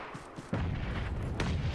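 Grenade blasts in a battle royale match land as heavy, booming thuds, one sharp onset followed by a rumbling tail and another muffled burst, with no talk over them.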